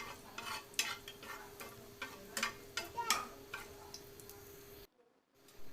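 Dried red chillies fry in mustard oil in a frying pan, a close, fairly quiet crackle and sizzle with irregular ticking pops and spatters. The sound cuts off abruptly near the end, then a faint bit returns.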